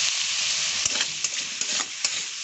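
Paneer frying in a pan, a steady close hiss of sizzling oil with a few brief scrapes and taps as the pieces are stirred.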